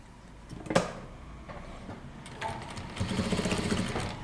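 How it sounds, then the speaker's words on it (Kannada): Sewing machine top-stitching along the edge of a kurta, starting with a sharp click, then a short run and a steadier burst of rapid stitching near the end. "ಸೊ ನಾನಿವಾಗ ಟಾಪ್ ಸ್ಟಿಚ್ ಹಾಕ್ಕೊಂಡು ಬರ್ತೀನಿ"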